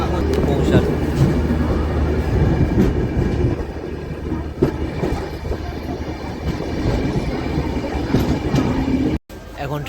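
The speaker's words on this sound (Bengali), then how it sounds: "এখন ট্রেন এসে দাঁড়িয়েছে খড়গপুর স্টেশনের 1 নম্বর প্ল্যাটফর্মে।" Jagannath Express pulling into platform 1 at Kharagpur station, a steady loud low rumble of rail cars with faint rhythmic wheel clatter throughout, ending in a brief dropout.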